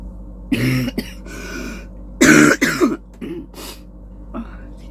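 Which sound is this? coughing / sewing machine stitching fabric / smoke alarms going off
coughing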